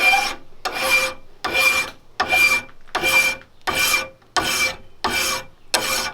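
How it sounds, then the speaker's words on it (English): A hand file rasps across the beveled wooden edge of a flintlock stock near the tang in nine steady, evenly spaced strokes, close and loud with brief pauses between each pass. "So I'm going to come in here with my file."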